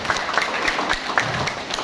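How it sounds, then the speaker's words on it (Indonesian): A seated audience at a company event claps in a brief, dense burst of applause that stays moderately loud throughout, with scattered individual claps standing out. "Tepuk tangan untuk PT BES."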